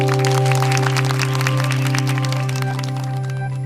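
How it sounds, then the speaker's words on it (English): A class claps in a round of applause, the crackly clapping heard over a strong steady hum and tonal background noise. "Now, give everyone a round of applause,"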